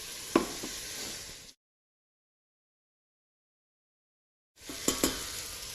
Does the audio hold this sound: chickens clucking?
no